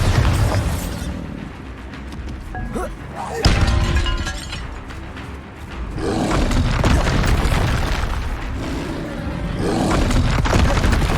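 Explosions from the Bombarda blasting spell in the game Hogwarts Legacy come as loud, heavy booms with a roaring rumble. Several bursts rise and fall across the stretch, one sharp crack stands out, and voices mix in.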